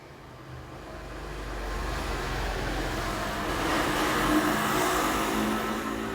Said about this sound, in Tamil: பயங்கரமான டிராஃபிக்காக இருக்குது.